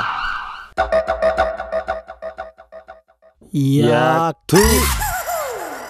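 Ambulance siren wailing loudly in short sweeping bursts near the end, after a stretch of rhythmic music, with strong falling and rising tones.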